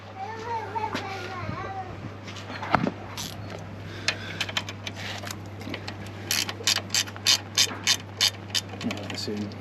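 Ratcheting 10mm spanner working on a Range Rover L494 condenser, rapid bursts of close clicking that grow into a regular rhythm, with children's voices and talk in the background.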